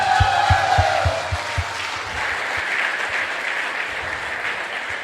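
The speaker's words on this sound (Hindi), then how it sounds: "जोरदार ताली बजाएं उनके लिए।" Audience at a Meerut team event for a new diamond leader applauds loudly, with a dense roar of clapping and crowd cheer. A few rhythmic thumps mark the start, then it settles into steady applause.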